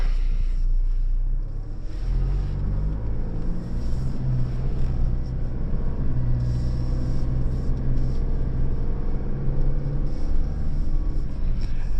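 A 2025 Toyota LandCruiser Prado Altitude crawls uphill in low range with rock mode selected, its engine a steady low rumble that holds for several seconds with no talking.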